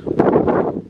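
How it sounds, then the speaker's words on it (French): Strong wind at a site with wind turbines roars and buffets the microphone in a loud, rumbling gust lasting about a second. "Ici il y a énormément de vent"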